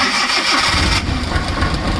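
A car engine with a loose timing belt and a suspected catalytic converter problem starts and runs rough, a loud, uneven churning mechanical noise that shifts in tone about halfway through, with no talk over it.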